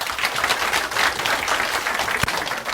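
Lecture audience at an organic farming class clapping together, a dense, even patter of many hands that holds steady at close range for a few seconds with no voices over it.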